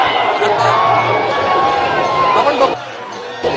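Bus strike workers celebrate the end of their strike in Wadala, Mumbai, with a loud, dense crowd cheering and shouting together. The roar holds steady for under three seconds, then drops to a quieter babble.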